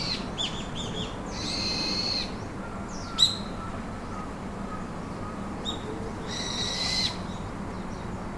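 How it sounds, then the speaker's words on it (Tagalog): Birds call in short, bright bursts every second or so, some hooting, over a constant rushing ambient background. No one speaks. "daming ibon sa taas"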